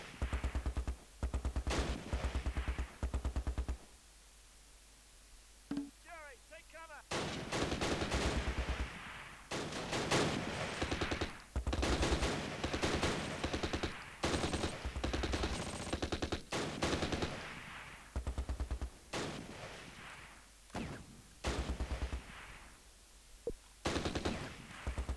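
Gunfire in the Close Combat video game: repeated bursts of machine-gun and rifle fire, sharp rattling volleys spaced by brief pauses, loud and continuous across the scene, with a short quieter gap near the start.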